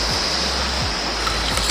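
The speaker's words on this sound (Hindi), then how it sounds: "वो हमारा है सामने पानी जा रहा है नीचे की तरफ से" River water rushing downstream toward Riva waterfall, a loud, steady broadband roar of flowing water close by with no breaks.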